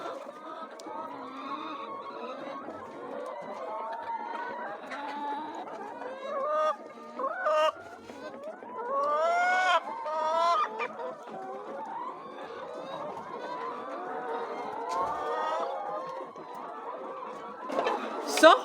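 Poultry cluck and chatter steadily throughout, with occasional louder calls and a possible distant crow, all under light background noise in a flock being treated for chronic respiratory and eye disease.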